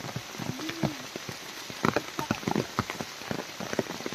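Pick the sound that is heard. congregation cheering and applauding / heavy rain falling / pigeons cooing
heavy rain falling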